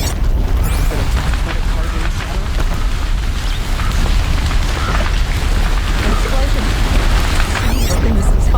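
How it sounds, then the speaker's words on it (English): A heavy explosion booms in a Horizon Zero Dawn game scene, with a dense, continuous roar of rumbling debris and crackling filling the whole stretch, loud and close throughout, with some voices underneath. "Did you hear that explosion?"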